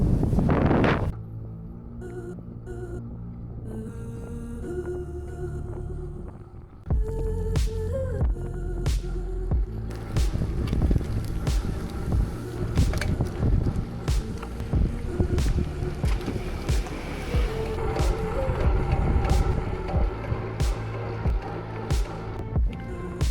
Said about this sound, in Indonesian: anginnya itu dari samping terus